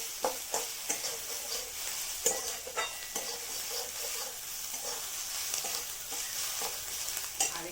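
Bottle gourd frying in a pan gives a steady close sizzle, broken by a string of sharp spatula scrapes and taps in an irregular rhythm, with no voices.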